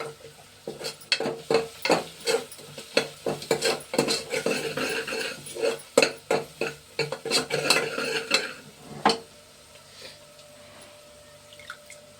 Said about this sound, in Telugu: మసాలా పేస్ట్ అంతా ఆనియన్స్కి పట్టేదాకా ఫ్రై చేసుకుని ఒక 5 మినిట్స్ ఉంచుతాం